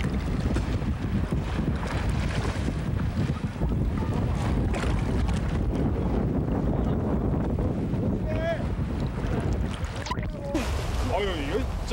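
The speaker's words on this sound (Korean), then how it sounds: "그날따라 그곳의 바람과 파도는 조금 심상치 않았습니다" Strong wind and rough sea waves at a rocky islet by tidal flats as the tide comes in, a loud, continuous blustery roar with buffeting on the microphone and faint voices calling near the end.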